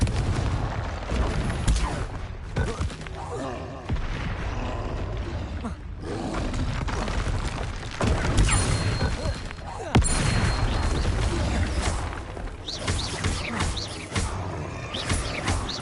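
Confringo fire spells in Hogwarts Legacy go off in a rapid series of loud, close blasts and booming impacts amid other combat noise, with no speech.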